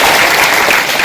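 Audience applause at a seminar on youth and a drug-free society, a dense, steady wash of clapping filling the whole short moment at close range.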